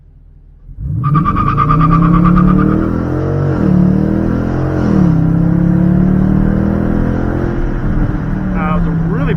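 A Dodge Challenger R/T with a 5.7L V8 HEMI engine launches hard, starting from idle and rising into a loud, sustained roar with pitch sweeps and squealing tires, heard close up and steady for several seconds.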